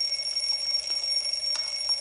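An alarm rings during a scene in the dubbed 2018 thriller Ratsasan: a loud, unbroken electronic tone held steadily for the whole two seconds, with no speech over it.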